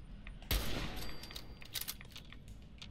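Gunfire crackles in Fallout 4. A sharp shot lands first, then a scattered string of quieter, distant pops and clatter follows over a dim background, with no voices.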